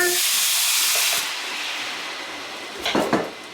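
A loud hissing sizzle bursts out as water hits a hot pan of rice and garlic frying in olive oil, fading to a softer steady simmer, with a brief clatter near the end.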